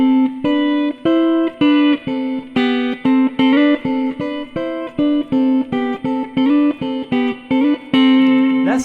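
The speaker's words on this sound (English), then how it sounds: "That's the sound of the sixth," Guitar plays a series of two-note intervals of a sixth, plucked one after another in a steady rhythm, moving up and down before a final dyad rings out.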